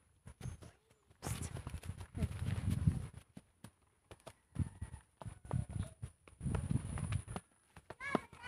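Horse hooves clip-clop in an uneven walking rhythm on a rural trail, close and fairly soft, with bursts of people talking between the steps.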